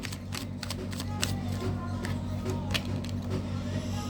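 Tarot cards are shuffled by hand in a few quick, soft riffling bursts, heard close over a steady low hum with no speech.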